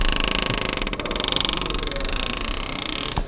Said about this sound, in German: Das ist im Prinzip der Freilauf, ne, den du im Endeffekt halt hörst.